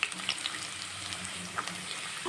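Diced carrots sizzling in hot oil in a pan, a steady soft crackle and hiss at low level throughout with no voices.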